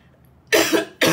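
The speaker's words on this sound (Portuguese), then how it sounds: "que o vídeo vai ter tosse" Two sharp coughs, close and loud, the first drawn out and the second starting right after a short pause.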